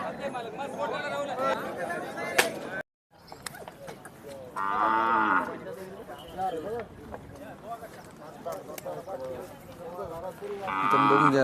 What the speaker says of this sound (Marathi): बघून घ्या लाल कंदर बैल आहे